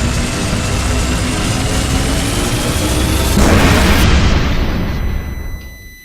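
Thompson submachine gun fire blasting summoned minions in the Call of Cthulhu video game, a loud, dense, continuous roar of shots and booms that swells midway and then fades out.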